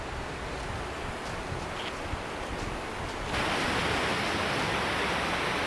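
Continuous roaring rush of a low-flow waterfall in Wayanad, a broad steady wash of noise that suddenly grows louder and brighter partway through.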